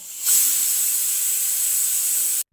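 A pressure cooker cooking lentils lets off a loud, sharp burst of steam, a steady high hiss that starts abruptly and cuts off after about two seconds.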